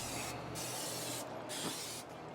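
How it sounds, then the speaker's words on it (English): A steady hiss of canola oil spray on a Ninja FlexFlame griddle, sustained for a couple of seconds with brief pauses between bursts, close and fairly loud. "We're using a little canola oil here, just a little spray on stuff."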